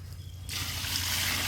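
After a brief quiet moment, a soft, steady hiss of water pouring into a pot of chicken biryani begins and continues close by.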